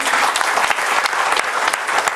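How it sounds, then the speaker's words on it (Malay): Loud, close applause from a young audience at a talk, dense continuous clapping with crisp individual claps throughout. "Tepuk tangan untuk anda semua."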